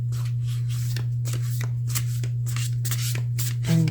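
A jumbo tarot deck being shuffled by hand, a run of soft riffling card bursts in quick succession under a steady low hum, close and moderately loud.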